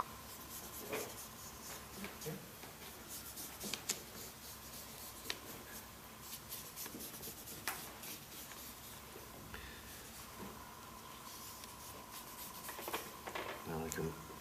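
A pen draws a wave shape across paper, giving a soft continuous scratching and rubbing with small taps and pauses, close and fairly quiet.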